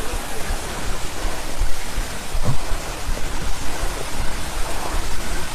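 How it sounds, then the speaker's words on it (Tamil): A waterfall tumbles among the sacred hill springs of Tiruvannamalai. Its steady roaring rush rolls on without pause, fairly loud and close, with small surges in intensity. "இந்த அருவி சத்தம் தாங்க கீழே வரைக்கும் கேட்குது"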